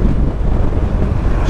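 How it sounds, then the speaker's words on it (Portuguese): Strong gusty wind buffets the microphone while a 2022 Honda Forza 125 maxi scooter rides slowly, making a loud, continuous low roar with no talking. "está um vento do cão"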